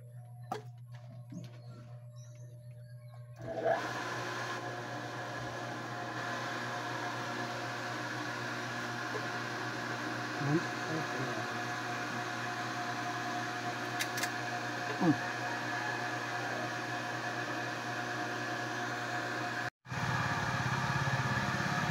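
After a quiet start, a water pump motor kicks on and runs with a steady, droning hum, then cuts out briefly and restarts near the end.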